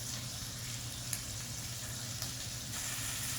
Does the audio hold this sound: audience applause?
no